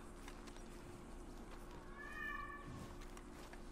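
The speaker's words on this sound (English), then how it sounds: "Sorry about all the meowing." A cat meows in the Red Dead Redemption 2 video game, one faint drawn-out mew heard partway through over a steady low hum of game background noise.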